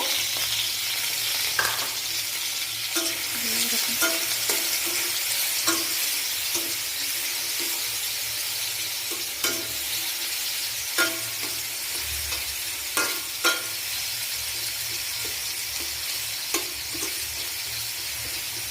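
Fried rice ingredients sizzle and crackle steadily in hot oil in a pan, with occasional clinks and scrapes of stirring punctuating the continuous frying hiss. Close and fairly loud, with no voices.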